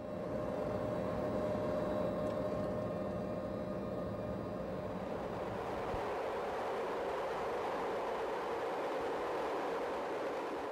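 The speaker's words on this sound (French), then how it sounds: "Croisement d'une rame colibri." Colibri passenger train set passing by, a loud continuous rumble and rushing roar that swells and then gradually thins as the train moves away, heard outdoors with no talking.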